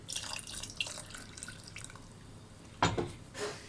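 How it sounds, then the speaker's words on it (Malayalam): Water splashes and trickles into a pot of curry in a couple of short bursts, with faint dripping and kitchen noise around them. "ഞാൻ കുറച്ചും കൂടി വെള്ളം ഒഴിച്ചു കൊടുക്കുന്നുണ്ട്"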